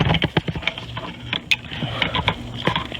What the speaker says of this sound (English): So now we're going to get to torquing.